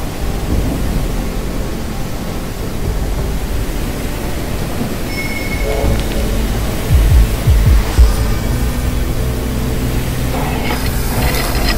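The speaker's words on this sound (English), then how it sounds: "There's a strong flow of steam blocking the way." Strong steam hissing in a video game, a steady broad rushing roar that fills the scene at constant loudness, with a few low thumps partway through.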